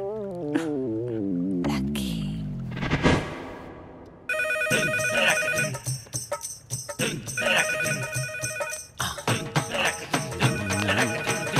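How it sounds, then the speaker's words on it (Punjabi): A telephone rings repeatedly in a domestic comedy scene, its bright electronic ringtone pulsing in a steady pattern after a short burst of other sounds. "ਫੋਨ ਚੁੱਕੋ"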